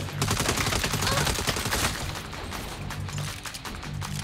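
Rapid gunfire from the Saints Row reboot, a steady barrage of sharp bursts and shots with impacts, loud and continuous and easing slightly toward the end, with no one speaking.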